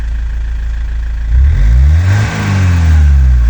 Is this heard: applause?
no